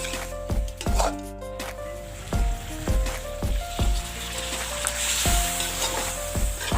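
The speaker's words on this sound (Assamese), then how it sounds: "এতিয়া মই ইয়াত গৰম পানী দি দিম।" Hot water poured into a pan of mutton and potatoes that had been frying, producing a loud sizzle and bubbling hiss with repeated clanks of a stirring spoon against the pot, close up.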